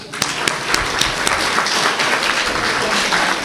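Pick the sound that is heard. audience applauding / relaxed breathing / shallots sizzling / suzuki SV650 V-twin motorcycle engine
audience applauding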